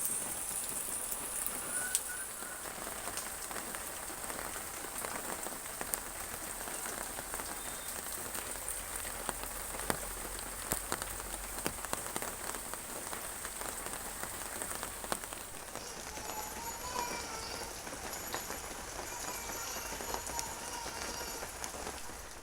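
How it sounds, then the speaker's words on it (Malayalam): Heavy morning rain pours down steadily, a dense, even hiss of drops striking surfaces that holds throughout with only slight changes in texture, heard alone with no voices. "അങ്ങനെ നല്ല മഴയുള്ളൊരു ദിവസമാണ് കേട്ടോ രാവിലെ തന്നെ നല്ല പെരുമഴയാണ് കേട്ടോ"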